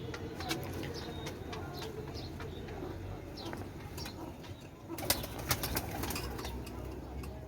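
Pigeons coo softly in a loft among other birds, with low rhythmic calls under a steady background hum, occasional wing flaps and a brief louder flutter near the end; the bird held is a golden pigeon.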